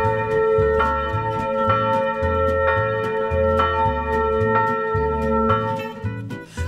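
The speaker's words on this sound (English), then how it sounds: "And the bells are quite loud, as you can tell." Church bells ring loudly and continuously in the Austrian countryside near Absdorf, overlapping peals with a steady rhythmic pattern of struck tones.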